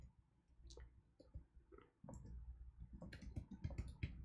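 Faint, quiet typing on a computer keyboard produces scattered clicks that become denser and more rapid in the second half, with no talking.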